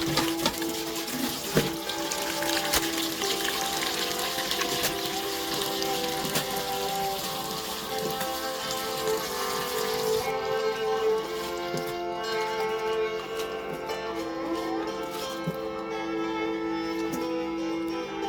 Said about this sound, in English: So after some time, I came back to wash my mushroom.